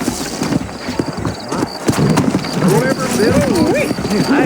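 Horse hooves clip-clop steadily in Red Dead Redemption, in the frontier town of Armadillo, a rhythmic close trot continuing under talking voices, with a wavering tonal sound and occasional thumps in the background.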